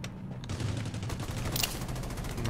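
Gunfire in the Rules of Survival video game on PC, rapid rhythmic automatic shots in a continuous burst, close and fairly loud.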